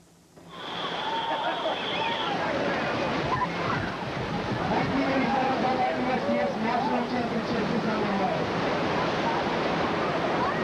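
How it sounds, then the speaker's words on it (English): Ocean surf breaks at a triathlon swim start on the coast, a loud continuous roar of waves and wind noise, with a voice talking over it throughout. "The swimmers fight through the waves, struggling for the best line to the first buoy."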